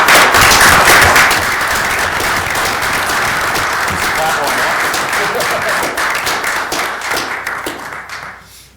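Loud, close applause fills a council meeting, with many sharp individual claps over a dense wash, sustained for about eight seconds before thinning and fading out.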